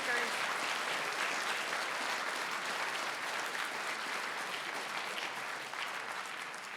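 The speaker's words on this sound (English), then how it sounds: "can we have a round of applause for all of those speakers?" Audience applause for a group of speakers at a live talks event, a steady broadband wash of clapping that fills the room and holds evenly before easing slightly at the end.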